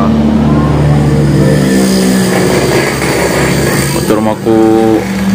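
A motorcycle engine drones loudly past in a village in Sumedang, a steady, buzzing hum that drops off briefly near the end, with people talking over it.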